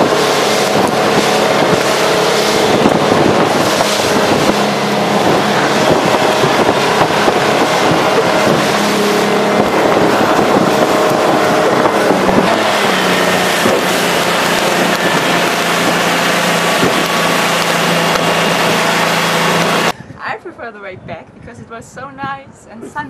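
A loud motorboat engine drones steadily amid rushing wind and splashing water as the boat bumps over rough waves off Svalbard, with voices underneath, before cutting to a quieter scene near the end.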